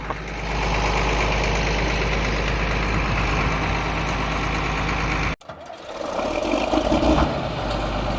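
A vehicle engine runs steadily with a low rumbling drone as it drives ahead. The engine cuts out briefly partway through, then resumes with rougher, uneven noise.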